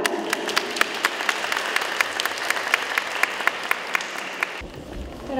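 Audience applause at a Polish village carol and pastoral song contest, a steady crowd of clapping with sharp individual claps standing out, fairly distant and sustained before cutting off abruptly near the end.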